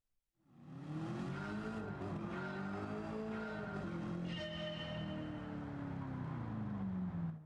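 A 1967 Chevy Nova race car drives a lap, its engine roaring steadily and loud close by, the pitch rising and falling through gear changes with no talk.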